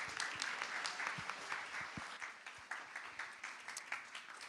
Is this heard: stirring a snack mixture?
no